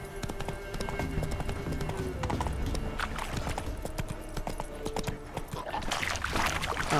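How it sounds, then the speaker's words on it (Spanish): A horse galloping in The Witcher 3: Wild Hunt, a steady, fairly loud clip-clop of hooves that runs throughout the scene against light ambient game sound. "Vamos a seguir cabalgando hasta donde tenemos que ir."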